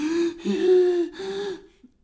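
A voice imitates hard, labored breathing while pedaling uphill on a bicycle, with three strained, gasping breaths in a row, loud and close, then a short quiet tail.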